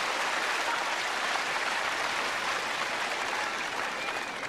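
A tennis crowd at the 1981 Australian Open final applauds Steve Denton, a loud, steady wash of clapping that fills the whole stretch without a break.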